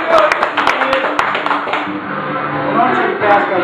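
Scattered claps from a crowd at a competition in Milan, sharp hand strikes early on over a steady murmur of voices and chatter.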